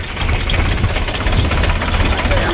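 A tractor engine rumbles steadily nearby on a farm during a mung bean harvest, a low continuous chugging drone with a rough vibrating texture and no pauses.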